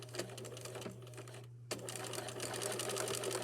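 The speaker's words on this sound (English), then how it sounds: "And the other side I'm going to sew up a short distance," Sewing machine running a short seam at the folded corner of a piece of fabric, a steady close mechanical whir with a brief pause partway through before stitching resumes.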